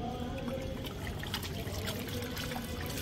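Water poured into a mix for homemade detergent powder, a steady soft splashing and trickling that runs continuously at low level without a break.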